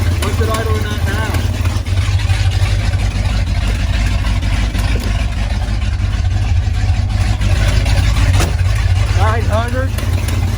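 An engine idles steadily after a Holley 4-barrel carburetor rebuild, a continuous low loud rumble running throughout while people talk over it.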